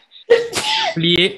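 A single loud, close sneeze bursts out indoors during a group session, with people speaking right around it.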